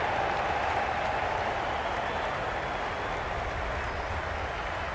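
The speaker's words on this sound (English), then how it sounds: "The crowd are really getting quite raucous" A stadium crowd at a Multan Sultans versus Karachi Kings PSL cricket match applauds and cheers in a continuous dense roar, steady and loud with no let-up.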